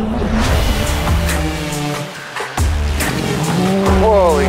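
A race car at full throttle in a timed shootout event squeals its tires through corners, with the engine roaring continuously up close and a voice talking over it.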